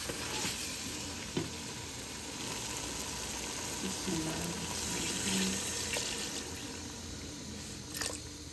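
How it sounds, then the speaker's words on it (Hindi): Water poured into a pot of frying turnip and beef (shaljam gosht), a steady hiss and sizzle of liquid hitting the hot pan throughout, with a few faint clinks and no talking. "अब इसमें पानी डालेंगे।"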